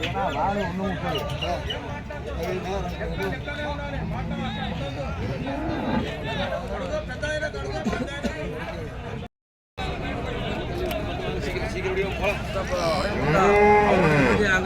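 Cattle moo repeatedly amid a noisy crowd of chatter and background bustle at the Karungalpalayam cattle market in Erode, India, with a louder, closer lowing near the end.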